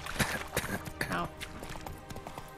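Horse hooves clop over ground in The Witcher 3 video game, around Crookback Bog. Close, rhythmic hoofbeats run through the whole moment, with a voice briefly heard over them.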